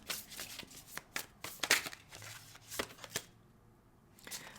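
Tarot cards are shuffled by hand close up, with a run of crisp riffling and slapping bursts that trail off into quieter handling near the end.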